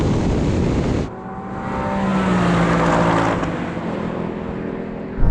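Ford Mustang Mach 1 and Porsche Cayman GT4 in a rolling race from 30 mph in second gear, engines roaring loud and close under hard acceleration, with a brief drop in level as the sound shifts.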